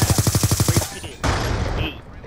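MTAR rifle firing in a video game: a rapid automatic burst of about ten evenly spaced shots, loud and close, followed by a short pause and a noisy rumbling tail with voices underneath.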